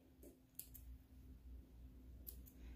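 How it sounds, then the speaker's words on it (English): Fabric scissors make a few quiet, crisp snips into sewn cloth, two short pairs of cuts spaced apart, close up and soft with no talking. "And then I go to this side and snip these two points."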